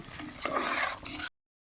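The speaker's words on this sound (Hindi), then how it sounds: "और अब हम इसे इस सॉस में डाल देंगे। मिक्स करेंगे।" Pasta being stirred into red sauce in a pan, with a steady wet scraping and sizzling texture for just over a second before it cuts to silence.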